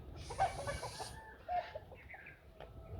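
Chickens cluck and make soft throaty calls nearby, a few scattered notes rising over a low background hum, with no one talking.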